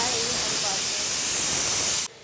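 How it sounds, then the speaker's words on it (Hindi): A pressure cooker boiling potatoes in a home kitchen lets out a loud, sustained hissing steam whistle that cuts off abruptly near the end, leaving quiet room tone. "कुकर सीटी पे सीटी दिए जा रहा है"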